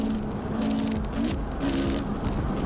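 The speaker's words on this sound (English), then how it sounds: "hear that rev matching" A street race car's engine revs and blips in quick rising surges during downshifts, loud and close over road and tire noise.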